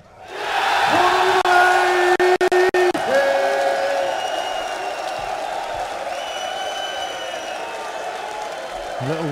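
A darts crowd at the PDC Austrian Darts Open roars, cheers and whoops continuously, loud and close, with short sung chant tones rising above the broad wall of noise.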